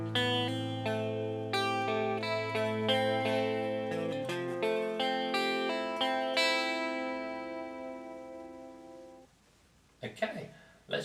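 Electric guitar plays a rhythm part, with sustained chords and picked notes ringing out over about nine seconds, then fading into near silence before some brief noise at the end.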